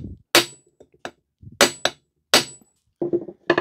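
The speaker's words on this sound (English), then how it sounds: "I'm going to thump them with a hammer first just to free up the threads" A hammer strikes the seized bolts on a Ryobi Grass Scorpion line trimmer engine, giving about half a dozen sharp, close metallic thumps in uneven pairs and singles with short silences between.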